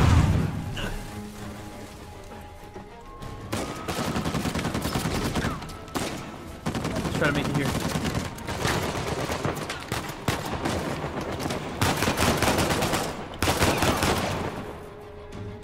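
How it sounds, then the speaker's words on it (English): Repeated bursts of video game gunfire from Uncharted 4, dense crackling volleys and rapid shots rolling across the scene, with a few quieter gaps between salvos. "Who's shooting?"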